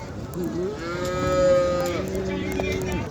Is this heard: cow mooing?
yes